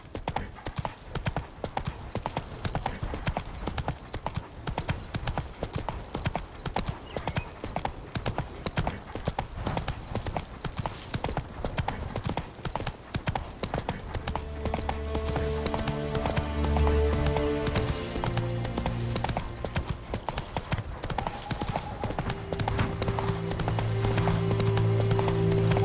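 Horse hooves clip-clop steadily while riding in The Witcher 3, a fast rhythmic gait under game music that swells with tonal notes partway through.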